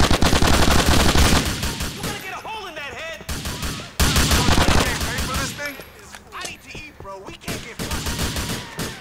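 Rapid bursts of automatic gunfire in the Grand Theft Auto IV game, loud and sustained through the clip, with voices shouting over the shooting.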